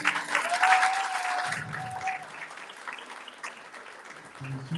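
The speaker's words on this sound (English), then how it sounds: "Please give them a round of applause." Audience applause at a Palestinian forum launch event in Scotland, steady clapping that fades gradually, with a faint tone and brief murmurs in the room.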